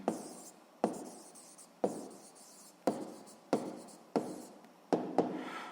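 Physics calculations are written by hand, with a pen or pencil scratching in several distinct strokes of roughly a second each, each starting sharply and then trailing off, quiet and close, with no speech.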